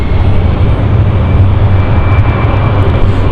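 A KLM airliner turns on the runway at London City Airport, a loud, steady, close jet engine roar with a low rumble and a faint high whine, no voices.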